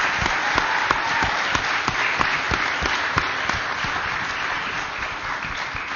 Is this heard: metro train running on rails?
no